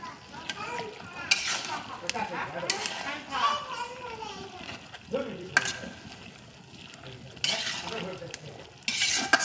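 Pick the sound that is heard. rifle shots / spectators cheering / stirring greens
stirring greens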